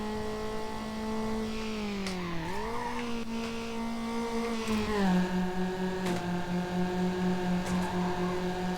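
Race car engine in Need for Speed Underground, a steady droning whine that dips and climbs as it shifts through gears, loud and continuous with brief tire squeals, no talk.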